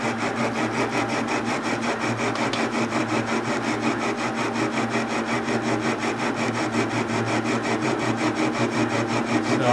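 A metal lathe turns down a steel workpiece with high-speed steel or cobalt cutting bits, making a continuous, steady, loud grinding and rubbing drone with a fine rapid pulse, unbroken and close for the whole stretch.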